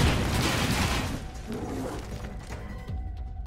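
Claymore mine explosion in the XCOM: Chimera Squad video game, heard as a loud, dense blast that rolls off into crackling debris and fading rumble over a few seconds.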